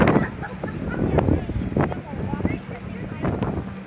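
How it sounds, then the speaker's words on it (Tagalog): Strong storm wind roars and buffets a nearby microphone in steady gusts, with a person talking over the noise. "ang lakas ng ano guys, hangin"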